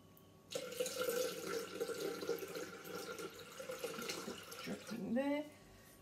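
Water pours from a tap into the bowl of a Thermomix TM6 in a home kitchen while preparing salmon and pesto pasta, a steady splashing stream that cuts off near the end, with a voice talking over it.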